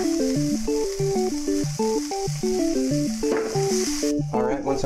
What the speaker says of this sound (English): we're going to begin frying our shallots and our garlic in our oil here